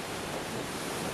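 A mountain waterfall pours down in heavy volume on a high plateau route, a steady, dense roar of rushing water that stays loud and unbroken throughout, with no voices.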